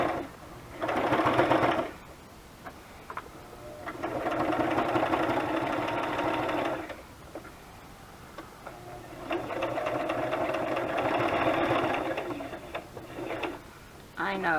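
A sewing machine stitches through paper scrap tags in three loud, sustained runs of rapid mechanical whirring, separated by short pauses, with quiet handling noises between the bursts.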